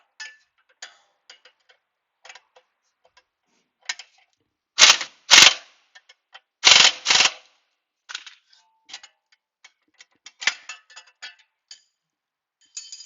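Wrench turning on a shock absorber of a 2012 Ford Explorer, with sparse metallic ratchet clicks and a few louder clanks in the middle, close and otherwise quiet with no talk.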